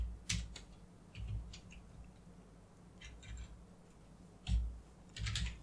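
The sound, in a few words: typing on a computer keyboard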